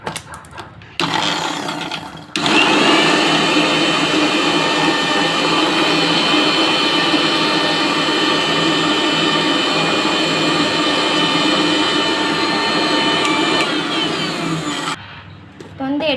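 A kitchen mixer grinder whirring steadily at high speed as potato ball ingredients are ground to powder, loud and continuous for about twelve seconds, with quieter pauses before and after.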